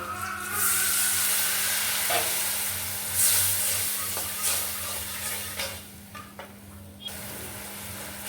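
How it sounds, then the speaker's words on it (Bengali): Spice paste with salt frying and being stirred in a pan, a steady sizzle broken by scraping strokes of a spoon that grow sparser toward the end, close up with no talking. "এখন আমি মশলাটাকে একটু ভালো করে কষিয়ে নিব"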